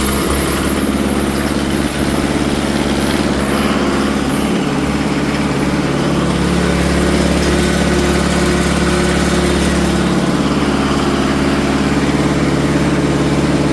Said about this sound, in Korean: 토출 밸브 잠그고 소방 제어반을 통해서 엔진을 돌려보도록 하겠습니다